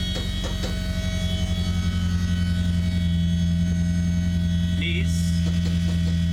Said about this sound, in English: And that's the sound of the pump.